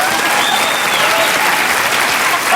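A studio audience applauds a band on a comedy panel show, a dense, loud burst of clapping that fills the whole moment with a few faint cheers mixed in.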